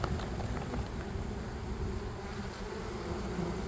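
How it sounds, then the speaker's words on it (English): Honeybees from a package hum in a dense, continuous swarm drone as they are dumped into a hive, close and steady with light rustling patter mixed in. "The bees are going loose."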